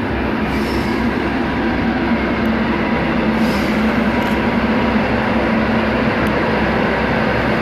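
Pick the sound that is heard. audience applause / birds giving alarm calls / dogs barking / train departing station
train departing station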